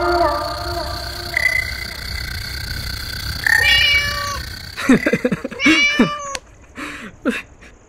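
A cat meows repeatedly, starting with drawn-out tonal cries over background noise and ending in a rapid cluster of loud, close meows with brief pauses between them.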